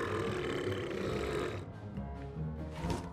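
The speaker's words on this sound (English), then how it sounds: "yeah, he burps." Homer Simpson lets out a long, loud burp as a game sound in LEGO Dimensions, set in Springfield, a rough guttural rumble lasting about a second and a half before fading into quieter background game audio.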